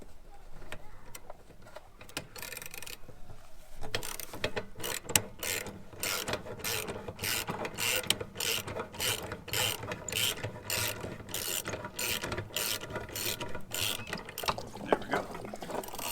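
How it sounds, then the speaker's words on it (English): Socket wrench ratcheting a drain plug off an RV, a rapid run of close, crisp clicks in steady rhythm after a few quieter taps. "first we're going to take a wrench and or a socket, and we're going to get this off here"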